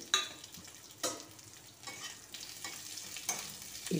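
Chopped onion frying with whole garam masala spices in a pan for dhaba-style paneer, a quiet sizzle broken by several sharp scraping stirs of a spoon, no speech.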